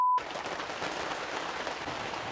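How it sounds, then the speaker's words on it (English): Steady, dense rain pattering on a tent nearby, continuous and fairly loud, preceded by a brief tone at the very start. "The rain does seem to be funneling into the tent here."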